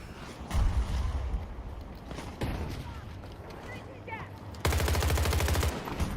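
Rapid gunfire and bursts of automatic weapons in the video game Battlefield 2042, loud and close, with a sustained rattling volley near the end.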